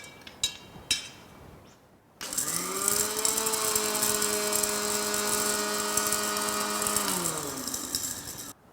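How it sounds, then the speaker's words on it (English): A mixer grinder grinds dry-roasted whole spices with a loud, steady motor whine that lasts about five seconds and then winds down. A few knocks are heard before it starts. "Whenever you dry roast whole spices and grind them, it's beautiful."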